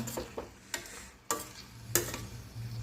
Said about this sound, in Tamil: நல்லா ரைஸ் போட்டு நல்லா கிண்டி விட்டாச்சு